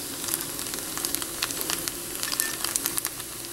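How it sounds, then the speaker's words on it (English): Peanuts, sliced carrot and cabbage sizzle steadily in a pan for a one-pot rice dinner, with a soft continuous hiss and scattered light crackles and pops, no voices. "1/3 cup of peanuts into the pan, like that."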